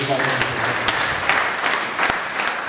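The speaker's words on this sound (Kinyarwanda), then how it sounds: "Reka tumukomere amashyi tumushimire." A church congregation at a fellowship centre applauds a church worker, a sustained round of clapping from a crowd that fills the room evenly, with voices audible beneath it.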